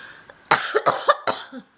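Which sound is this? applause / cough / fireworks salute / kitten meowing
cough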